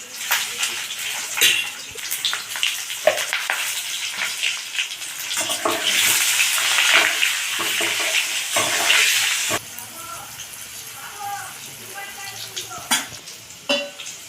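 Potatoes fry in hot oil for a mutton curry, giving a steady loud sizzle with bursts of stirring and scraping through the first ten seconds, then a lighter, quieter crackle.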